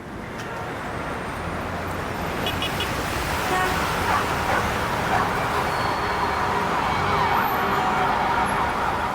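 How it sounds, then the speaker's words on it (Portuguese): Busy, noisy commercial street in São Paulo: a constant dense roar of traffic and bustle, with occasional horn toots and a faint wailing siren mixed into the steady din. "Nós estamos num local de bastante comércio, de bastante movimento, de bastante barulho em São Paulo."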